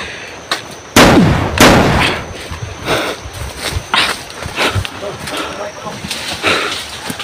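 Several sharp gunshots crack out at irregular intervals, loud and close, with brief echoing tails between them.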